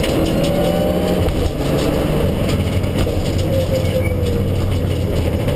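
A rally car accelerates hard on a stage of the Porto Santo rally, heard from inside as a constant, loud engine roar with road rumble.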